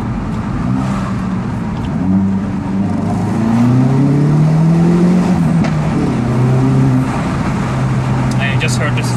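Exhaust of a 2018 Hyundai i30N N-Exclusive with the Performance Pack, revving loud and close in steady swelling pulls, engine note rising and falling over continuous rumble, with a voice talking over it.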